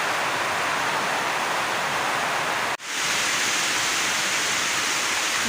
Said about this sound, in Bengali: বৃষ্টি খুব জোরে আসতেছে